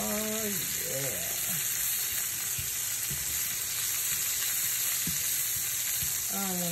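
Seafood pasta sauce seasoned with Himalayan salt and black pepper sizzles steadily in the pan as it cooks down, a constant close frying hiss with a few soft stirring knocks and brief faint voice sounds.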